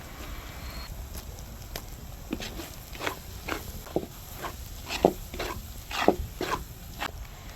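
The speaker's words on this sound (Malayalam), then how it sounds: "ഇതും നന്നായി ഇളക്കി കൊടുക്കണം." A spoon stirs beef with tomatoes and pepper powder in a pan, a series of close, irregular scraping knocks against the cookware over a soft background hiss.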